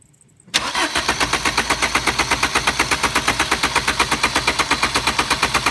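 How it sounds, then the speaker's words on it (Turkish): A Fiat 1.3 Multijet diesel car engine turns over after a moment of quiet, a loud steady rapid chugging of the starter and engine cranking close by, continuing evenly without catching. "Tekrar arabayı çalıştırmaya çalışacağız."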